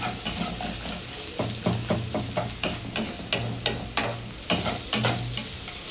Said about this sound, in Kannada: ಹಾಕ್ಕೊಂಡು ಇವಾಗ ಮತ್ತೆ ಒಂದು ಸತಿ ಎಲ್ಲ ಮಿಕ್ಸ್ ಮಾಡೋಣ.